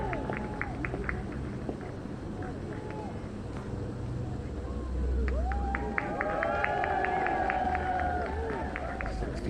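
Golf fans cheer around the home hole at the DAEBO hausD Open women's tournament, a crowd roar of mixed voices and shouts that grows louder midway and continues under a commentator's talk.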